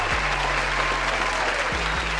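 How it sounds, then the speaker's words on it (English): A burst of clapping from a crowd at an NFL discussion show fills the whole moment, steady and fairly loud, with a low hum underneath. "let's give a round of applause"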